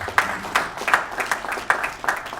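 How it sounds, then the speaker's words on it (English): A small audience at a Rotary Club of Ikeja gathering claps for a guest speaker, sparse and uneven, with distinct individual claps in loose bursts rather than a dense roar. "A round of applause for him, please."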